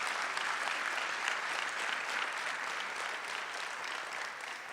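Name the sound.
audience applause for the sign language crew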